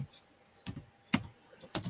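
Typing on a computer keyboard, a few sparse clicks heard up close: three or four separate key presses spaced unevenly across a quiet background.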